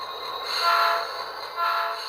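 A model train running on a DCC-EX layout, with a hum and a soft horn-like tone that swells twice while the train passes close by, with no talk over it.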